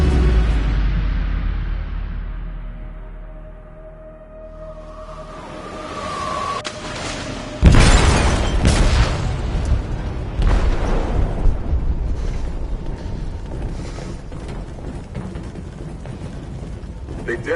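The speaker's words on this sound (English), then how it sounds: "They detonated an explosive in the hold." An explosive detonates in a ship's hold in the game Detroit: Become Human, a sudden deep boom followed by long rumbling and crashing debris over a low roar.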